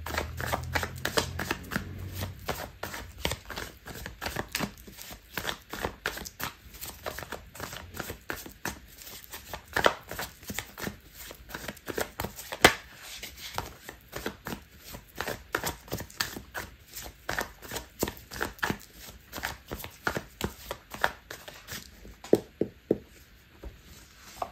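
A tarot deck being shuffled close up, with a steady run of crisp riffling and slapping card sounds for about twenty-five seconds and no one talking.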